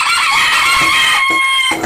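A rooster crows loudly and close, one long sustained crow with strained harmonics running its full length, followed by a few short clucking fowl sounds near the end.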